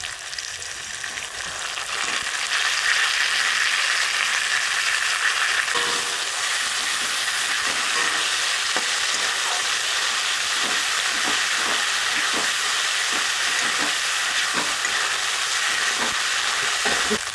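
Ground spice paste of ginger, cumin and coriander sizzles steadily in a pan with capsicum for cauliflower, a broad continuous frying hiss with scattered stirring scrapes and clicks throughout, no voices.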